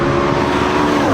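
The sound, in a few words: McLaren 12C driving fast on Thermal race track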